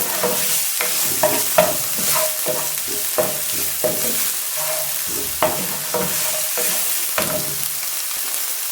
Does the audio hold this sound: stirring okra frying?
yes